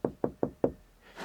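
Four quick, evenly spaced knocks on a car door fitted with sound-deadening insulation, each a close, dull, muffled thud that dies away fast, with nothing else heard.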